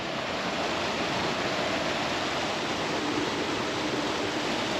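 A small waterfall on the Oregon coast gives off a continuous, even rush of falling water, close and steady, with no voices.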